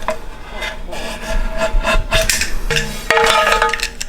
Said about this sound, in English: now you just take your razor blade, courtesy of Home Depot, and we're just gonna cut the silicone